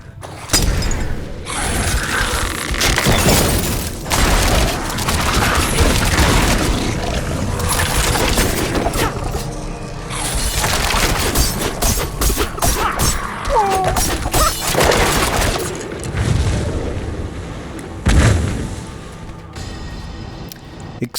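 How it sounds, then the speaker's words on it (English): Explosive sacks bursting in Diablo 4, heard as a dense, loud run of crashes, shattering debris and thumping impacts that pile up continuously, with mechanical clatter mixed in and a brief lull near the end. "Exploding sacks,"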